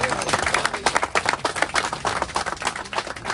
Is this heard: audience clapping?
yes